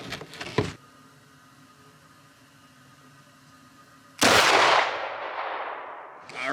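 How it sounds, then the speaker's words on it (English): A shotgun fires one deafening blast outdoors in melting snow during a deer-season sighting-in session, followed by a long rolling echo. A shorter, quieter burst comes before it, and another loud onset cuts off at the very end. "we're gonna do one last shot to verify my grouping is where I want it"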